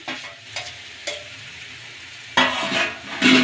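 Boiled potatoes being stirred in a pan for aloo katli, with scraping strokes against the pan at intervals over a soft sizzle, growing louder and busier toward the end, no voices.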